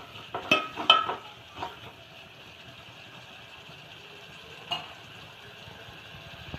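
Tomato rasam tempering with coriander leaves fries in a pan, giving a soft steady sizzle, with a few louder stirring clinks and scrapes near the start and one more later.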